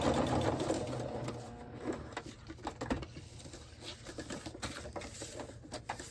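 A sewing machine stitches fabric panels for a scrappy flip-flop journal, running in a steady close whir for the whole stretch with small pauses and uneven patter as the fabric is guided.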